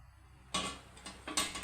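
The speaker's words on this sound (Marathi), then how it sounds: "मी आता गॅसवर पातेलं ठेवणार आहे" A metal cooking pot is set down on a gas stove in a home kitchen while cooking drumstick pods. There is one sharp close clank, followed by several lighter knocks and scrapes, with no talking.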